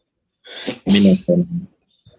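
A single sharp sneeze bursts out close by, a quick intake followed by an explosive release and a brief trailing sound.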